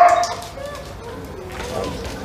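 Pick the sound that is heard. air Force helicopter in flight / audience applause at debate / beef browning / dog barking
dog barking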